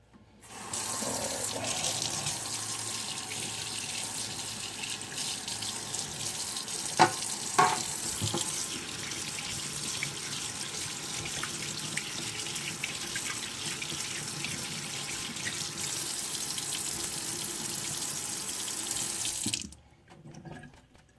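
Tap water runs steadily into a sink for about twenty seconds as an object is rinsed under it, a broad continuous splash with a few brief clunks midway, then it cuts off abruptly near the end.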